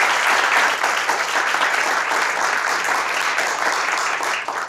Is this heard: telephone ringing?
no